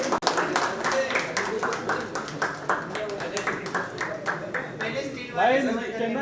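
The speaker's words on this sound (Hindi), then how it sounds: "सभी की तालियां चलती रहनी चाहिए।" An audience claps steadily and fairly loudly at the music launch event for the 2016 Sai Baba film Brahmand Natak, a dense run of hand claps lasting several seconds with voices talking over it before it fades.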